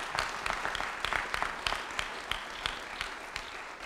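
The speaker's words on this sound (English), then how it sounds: "they deserve a loud round of applause for them" Crowd applause at a St. Louis civic announcement honoring construction contractors, a moderately distant, steady patter of many hands clapping throughout, with no speech over it.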